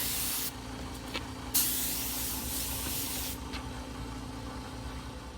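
BIN primer sprays from an aerosol can onto a wooden end table in two bursts, a short one and then a longer hiss, over a low steady background hum.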